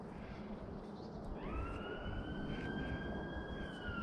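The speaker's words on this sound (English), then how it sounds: "I was just about to say how lovely and peaceful it was in here until that siren went off." A siren heard during a woodland walk at Bolton's Bench near Lyndhurst in the New Forest, rising into a sustained distant wail over a steady outdoor background of wind and ambient noise.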